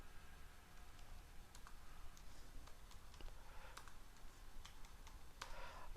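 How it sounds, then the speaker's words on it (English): Typing on a computer keyboard at a Linux terminal: irregular, faint, close key clicks scattered across the whole stretch over a quiet hiss, with no talk. "I am typing character in non-ascending order"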